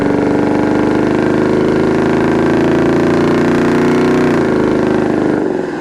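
A 1966 Buick Riviera GS V8 runs at about half throttle while driving, a loud, steady, throaty drone that holds a constant pitch and then eases off at the end, with no talking.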